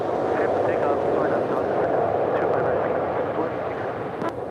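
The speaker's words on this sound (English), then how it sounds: "the 777-300ER flight 6 coming in from Tokyo Narita, about to touch down at 24 right" A Boeing 777-300ER arriving from Tokyo Narita touches down on runway 24 right at LAX, a steady broad roar of jet engines sustained close and loud throughout, with radio chatter in the background.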